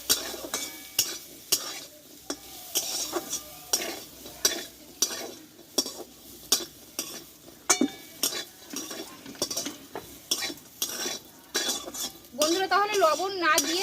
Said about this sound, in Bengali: এবারে মশলা মাখানো বড়িগুলোকে দিয়ে দেব দিয়ে তেলে ভালো হবে খুব অল্প আছে কিন্তু বড়িটা ভাজতে হবে